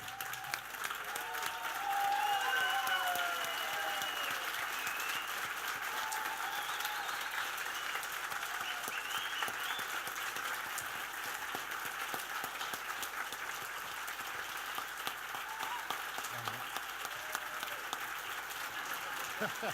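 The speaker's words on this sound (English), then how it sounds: "give them a massive round of applause" An indoor audience at the launch of a learning disability rugby league applauds the teams, with sustained dense clapping that peaks early, then holds steady with a faint crowd murmur underneath.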